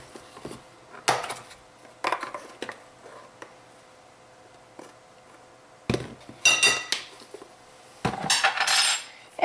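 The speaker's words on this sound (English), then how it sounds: "we're going to mix this up slowly so it doesn't go up your nose" Dry ingredients with allspice and cinnamon are stirred slowly in a bowl, with a utensil scraping and clinking against the sides in short bursts separated by quiet gaps, close and fairly loud.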